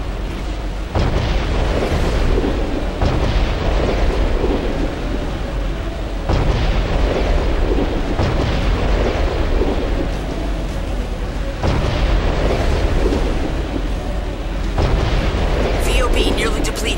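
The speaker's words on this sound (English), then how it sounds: "Those cannons will rip you to shreds." Heavy, continuous booming blasts of cannon fire in a video game (Armored Core: For Answer, Spirit of Motherwill battle) roll on for the whole stretch, loud and dense, with a few abrupt shifts in intensity.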